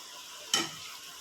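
Ginger-garlic paste dropped onto browned onions in a hot pan for shahi paneer, a sudden sharp sizzle burst that quickly fades into a softer crackle.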